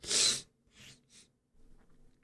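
A single sharp sneeze bursts out loud and close, followed by a couple of soft snorting breaths and a faint rustle.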